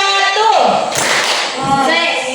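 A classroom of students claps a short counted rhythm pattern together during a lesson, with a burst of sharp hand claps in the middle and voices heard around it.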